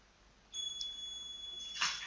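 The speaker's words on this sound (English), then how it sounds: "You see, that's the alarm now." A thin, high electronic alarm tone from a mobile phone's trading app, signalling a buy limit order; it switches on abruptly, holds steadily and faintly, then a brief louder burst follows near the end.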